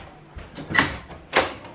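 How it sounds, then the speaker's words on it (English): A door is opened during a power blackout at a house in Leyte, Philippines, giving two soft scraping, sliding bursts close by, with no talk. "Do I need to open the door?"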